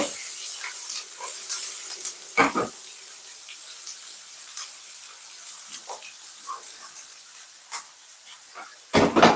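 Chopped onion hisses and sizzles in a hot pan while cooking pepper steak, a steady close frying crackle with occasional louder spits and pops, no voices over it.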